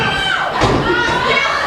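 A crowd at a wrestling show cheers and shouts loudly and continuously, with a dull thump near the middle.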